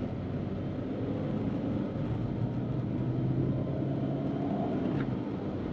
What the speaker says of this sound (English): Oh, this engine is still very, very nice.